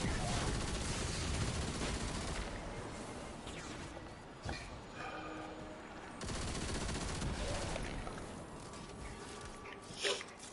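Dense, sustained gunfire from a Destiny 2 weapon, a loud continuous fusillade of rapid shots with a few sharper bursts toward the end.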